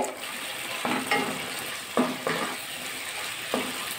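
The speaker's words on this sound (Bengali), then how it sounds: "এবার মশলাটা ভালো করে কষিয়ে নেব আলু দিয়ে।" Potatoes are sautéed in a spice paste thinned with a little water. A constant frying hiss is broken by several rhythmic scraping strokes of a spoon across the pan.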